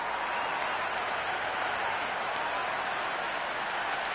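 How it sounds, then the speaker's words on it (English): Cricket crowd in the stands of an India versus Australia T20 match cheering and applauding, a dense, steady roar of clapping and voices holding at full strength throughout. "There's a buzz, a real buzz coming from the stands."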